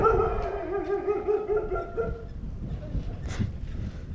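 A small dog yips and whimpers in a high-pitched run on a residential street in Japan, fairly close, with street noise and a faint voice in the background.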